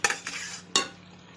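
Fried potatoes tipped into a chicken curry and stirred: three quick scraping clatters of a spoon in the pot over a faint sizzle, close and alone without voices.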